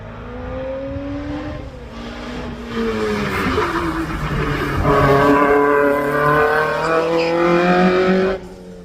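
A Fiat X1/9 race car fitted with a Pinto engine runs at a hillclimb, its engine note rising loud and close through gear changes, pitch climbing and dropping in sweeps before cutting off sharply near the end.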